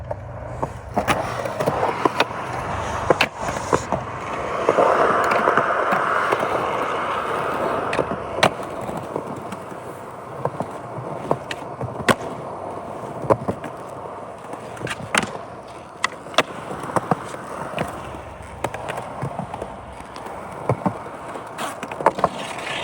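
A skateboard rolling continuously, wheels rumbling with scattered sharp clacks and thumps of the board, close by and fairly loud.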